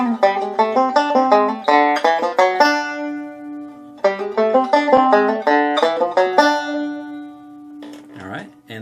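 Banjo playing a break, rapid plucked notes in bright rolling phrases, two passes with a brief pause between, close and clear, ending with a held note and a short voice.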